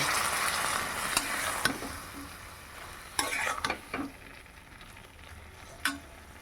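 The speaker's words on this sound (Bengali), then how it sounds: "চলো ভালো করে কষিয়ে নিই" Bata fish with ground spice paste and a fresh bay leaf sizzles in an iron kadai, a steady close frying hiss punctuated by several sharp spatula scrapes and clinks as it is stirred, with no talking.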